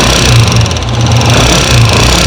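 Abnormal engine noise from a 2003 Honda CG125 motorcycle, a steady, loud idle with a low rhythmic throb and a mechanical tapping layered over it, heard alone and close up.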